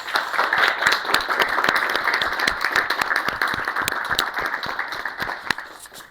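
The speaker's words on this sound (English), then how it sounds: "we need to give a round of applause" A room claps for high school mock trial participants, with dense, steady applause from many hands that gradually thins and fades toward the end.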